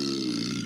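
A single short, low, throaty burp from a person, close and fairly loud, lasting under a second.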